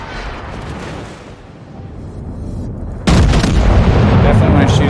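Naval guns fire at destroyers in World of Warships, where a low battle rumble suddenly gives way to a loud, booming salvo that keeps roaring heavily to the end.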